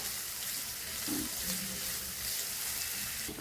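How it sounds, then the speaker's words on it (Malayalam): Steady, close sizzling of onions frying in hot oil, a continuous crackling hiss with no voices. "സവാളയിട്ട് നമുക്കിതൊന്ന് വറുത്തെടുക്കാം"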